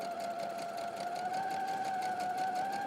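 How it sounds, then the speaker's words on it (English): A domestic sewing machine stitches a quarter-inch seam straight over pins, a steady close whir with a fast, even rhythm running throughout. "Sewing over pins."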